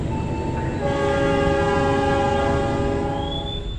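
A passenger train pulls away from Cikarang station in Indonesia after a two-minute stop, its horn sounding with steady layered tones over continuous rumbling rail noise, loud and close, with a rising squeal near the end.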